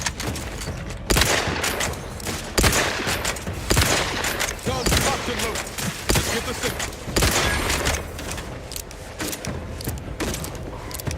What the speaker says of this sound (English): They're like launching mortars at us.